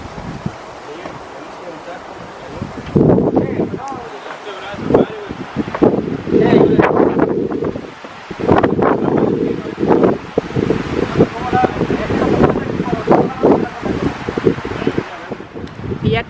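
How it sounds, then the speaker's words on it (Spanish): Strong outdoor wind roars and gusts loudly into the microphone before a storm, a rushing broadband noise that rises and falls over many seconds, with a voice talking underneath. "Hay ahorita bastante viento, como que se viene así como una tormenta, algo así, pero hay bastante viento."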